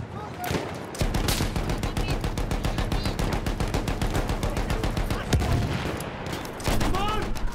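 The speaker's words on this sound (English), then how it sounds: "Those machine guns are holding our lads back." German machine gun fire in the Battlefield 1 video game, long rapid bursts of steady rhythmic shots that pause briefly and then resume, loud and close, with distant shouting underneath.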